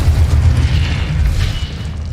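A deep rumbling blast from the Confringo spell in Hogwarts Legacy, a loud low boom that rolls on and slowly fades without a sharp decay, no talk over it.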